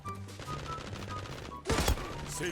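Rapid automatic gunfire from the online shooter Zula comes in a dense burst, followed by a louder crack near the end, with no talk.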